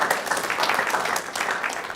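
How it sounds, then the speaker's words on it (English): Studio audience applause during a live Australian football talk show, a steady wash of clapping filling about two seconds with no clear speech. "Round of applause."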